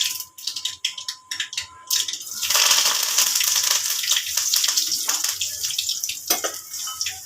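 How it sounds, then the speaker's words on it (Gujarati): Mustard seeds crackle and spatter in hot oil in a pan for Gujarati urad dal, a dense, continuous sizzle with rapid popping that builds after a couple of seconds and stays loud and close throughout, with no talking. "હવે આપણી રાઈ તડ થવા માંડી છે।"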